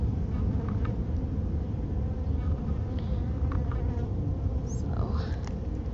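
Honey bees buzzing inside a live beehive, a steady low droning hum that stays constant throughout, with faint scattered sounds on top.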